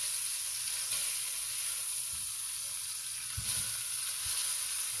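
Turkey wings sizzle and fry steadily in a hot pan, a continuous close crackle with a few soft thumps as the pieces are turned over; no one speaks.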